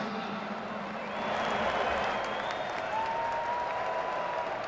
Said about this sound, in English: A big round of applause for our sponsors tonight.